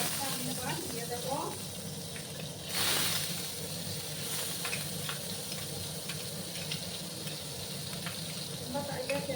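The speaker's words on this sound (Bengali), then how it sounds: "সেই গ্রেট করা পেঁয়াজটা আমি এবার দিয়ে দেবো" Grated onion hits hot oil in a pan while cooking okra, giving a loud burst of sizzling that settles into a steady close fry with stirring noises, and someone talks over it.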